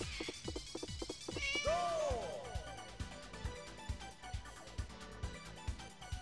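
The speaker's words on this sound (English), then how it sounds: "So like the cat, if you press start, it meows." A cat car in an arcade racing video game lets out a loud, drawn-out meow with a falling pitch, followed by a rhythmic, thumping game music loop.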